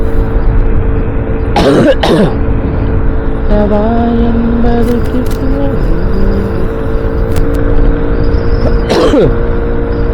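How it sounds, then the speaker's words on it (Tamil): A harsh cough bursts out twice early on, then once more near the end, over a constant loud engine rumble inside a moving vehicle. "ஒரு தடவை வர இருமல் கொஞ்சம் கொடூரமான இருமலாக இருக்குது"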